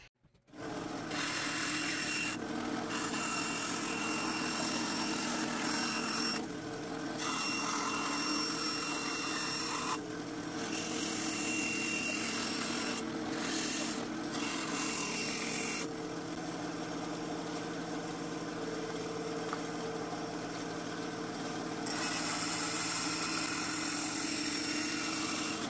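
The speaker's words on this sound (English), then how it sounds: "this bandsaw is about as sharp as a 2x4, so bear with me" Dull bandsaw cutting a holster for a CZ P07 pistol: a close, continuous rasping, rubbing buzz with brief dips in between, steady and alone without talk.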